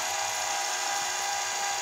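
A grinder works on the rakers of a chainsaw chain during sharpening. A steady, high, whining grind runs without a break for the whole moment.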